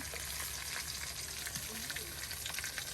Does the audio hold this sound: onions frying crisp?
yes